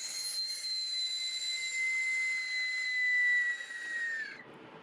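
A harsh, rushing whistle-shriek from a 3D-printed Aztec death whistle, airy and piercing, sustained for over four seconds then dropping away suddenly.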